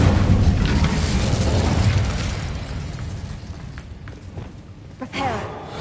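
A fire spell cast in the Hogwarts Legacy video game: a loud, broad burst of roaring flame that swells at the start, then thins into crackling and scattered pops.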